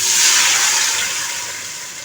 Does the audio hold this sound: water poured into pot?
yes